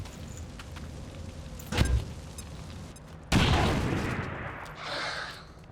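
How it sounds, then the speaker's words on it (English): Grenade thrown and detonating in the XCOM 2 strategy game, a sharp blast near two seconds followed by a louder, broader explosion with a rumbling tail and scattered debris after it. "Throwing grenade."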